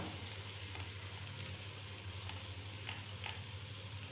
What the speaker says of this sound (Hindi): अब मैं इसके अंदर टमाटो केचप शामिल कर रही हूँ।